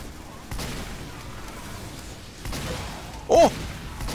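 In Team Fortress 2, a Spy's Ambassador revolver fires a few sharp shots spaced apart amid game noise, followed by a brief vocal exclamation from a player.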